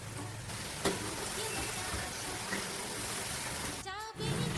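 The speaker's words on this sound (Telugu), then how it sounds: "ఆయిల్ వేడైనాక గబ్బలు వేసుకోవాలి ఇలా కొన్ని కొన్ని వేసుకోవాలి" Wheat flour gavvalu frying in hot oil, a steady dense sizzle running throughout with a brief clatter near the end, no speech.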